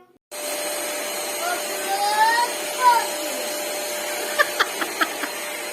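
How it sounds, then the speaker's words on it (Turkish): A vacuum cleaner hums steadily throughout, with a few faint clicks and knocks near the end and a brief murmur in the middle. "Süpürge yapıyor Feridun."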